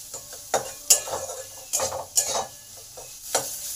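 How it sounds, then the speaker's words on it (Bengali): Grated ginger and onions fry in a pan with a soft sizzle underneath, broken by several sharp scrapes and clinks of a spoon stirring against the metal at irregular intervals. "এই আদাটাকে ভালো করে পেঁয়াজের সাথে ভেজে নেব।"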